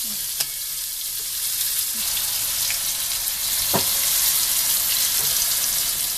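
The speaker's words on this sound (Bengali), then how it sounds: "এত বড় কড়াই নিচ্ছি, তাও তেল ছিটে ছিটে গায়ে লাগছে" Potato pieces fry in hot oil in a large wok, with oil spattering throughout: a steady, fairly loud sizzle broken by a few sharp pops and crackles.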